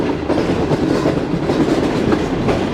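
Shalimar Express parlour car on the Karachi to Lahore run rolling slowly into a platform, with a steady close rumble and rhythmic clickety-clack of wheels over rail joints and no voices.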